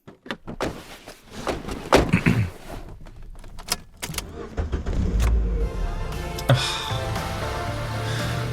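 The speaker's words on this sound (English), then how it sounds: "a late 60s Lincoln Continental, upkept well and clearly cared for" A well-kept late-1960s Lincoln Continental in an audio-drama scene: a series of close clunks and clicks like doors and handles, followed by a steady, rising engine rumble that settles into a continuous hum.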